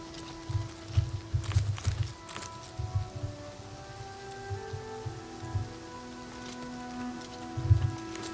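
Steady rain in The Elder Scrolls IV: Oblivion Remastered patters throughout, with soft irregular drops and low thumping bursts over a faint continuous background hum.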